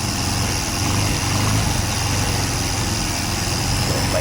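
Freshly overhauled Keeway Icon 110cc scooter engine idles steadily after a cold start, a close, continuous low putter with an even, buzzing drone and no talk over it.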